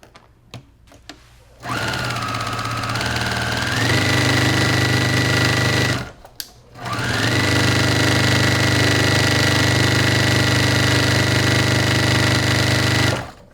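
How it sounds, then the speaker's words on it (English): A sewing machine runs steadily while stitching a quarter-inch seam on quilt pieces, its loud, close motor whirring in two long runs separated by a brief pause, with a few light clicks before the first run. "I'm just going to go to the machine and 1/4 inch seam the whole thing"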